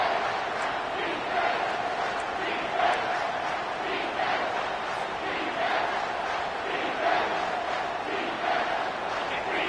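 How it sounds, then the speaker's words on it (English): A large stadium crowd in the College Football 25 video game roars in a steady, continuous wall of noise, with rhythmic swells like chanting rising and falling throughout. "And here comes the noise. This crowd is trying to inspire this defense"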